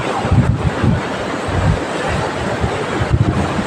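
Steady roaring surf at Udaipur Beach, Digha, with broad noisy wash, waves breaking repeatedly close by, with wind buffeting the microphone throughout; no voices.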